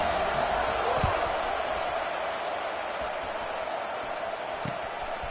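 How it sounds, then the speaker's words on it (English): A football stadium crowd buzzing after a score, a steady, dense wash of distant cheering and murmur with a couple of faint thumps. "this crowd is buzzing after that last score"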